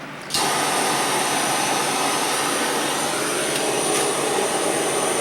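Hot air rework blower heating a BGA chip on a cable box circuit board, a steady loud broadband rushing hiss that starts abruptly and holds constant throughout.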